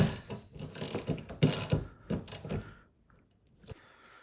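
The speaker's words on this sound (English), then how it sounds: "I'm going to take this nut, take that 12 millimeter, and then start tightening it." A hand ratchet tightens a 12 mm nut on the rear wiper arm of an Acura RSX, with rapid, close clicking in quick bursts that fade to a few last clicks.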